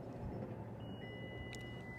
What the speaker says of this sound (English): I heard those beeps at the same time